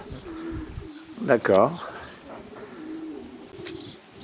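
Racing pigeons in a competition loft holding over 200 birds, with soft throaty cooing rising clearly over a quiet background and brief speech nearby.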